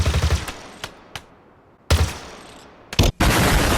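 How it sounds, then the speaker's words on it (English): Several sharp bursts of rapid gunfire from the Needler in the video game Halo Infinite, each cut short, separated by pauses, ending in a sustained loud stream of shots. "this is a rapid-fire projectile automatic that shoots blamite crystal shards"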